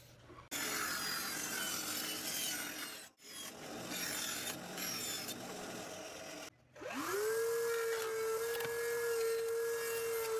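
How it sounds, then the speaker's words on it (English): Wood trim being cut with a power saw, a loud continuous rasping and rubbing that briefly drops out twice, then settles into a steadier motor whine toward the end. "Get the trim in there, and let's cut."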